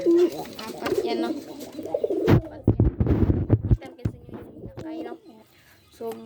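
Pigeons coo softly at their nest holding eggs. The low, repeated coos come close by and are interleaved with a person talking quietly nearby.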